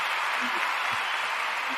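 A small crowd's applause at a steady level for under two seconds, with a few faint voices underneath.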